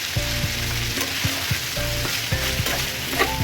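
Minced beef is stir-fried and mixed in a pan, a loud, steady sizzle with repeated scraping strokes of a spatula at a brisk rhythm and no voices.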